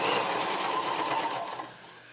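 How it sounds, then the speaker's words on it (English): A sewing machine runs in a short fast burst, stitching pajama bottoms, its rapid needle chatter close and clear before slowing and stopping after about two seconds. "And now we just start sewing."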